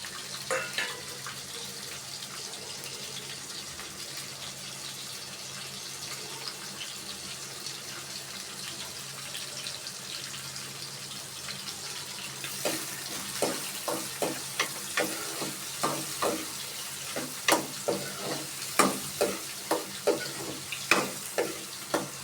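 Chopped tomatoes with prawns fry in a hot pan, giving a steady, bright sizzle. Partway through, a run of quick, regular clinks and scrapes of stirring joins in close by. No one talks.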